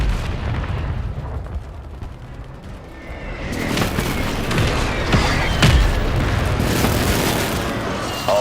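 Friendly airstrike explosions in a ranked video game match, a low rumbling roar that swells into heavy, continuous booming blasts, loud and close.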